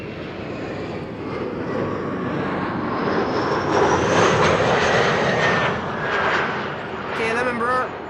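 A KLM Embraer 175 jet arriving at Amsterdam Schiphol, a broad engine roar swelling to a peak midway and then easing as it passes, with a voice talking near the end.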